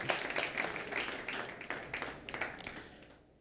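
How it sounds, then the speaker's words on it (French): Applause at a Montreal tech awards ceremony for three innovation-prize finalists: a steady crowd clapping that rises and then fades out toward the end, somewhat distant, with no voices over it. "une belle main d'applaudissements pour les 3 projets, les 3 finalistes pour le prix de l'innovation"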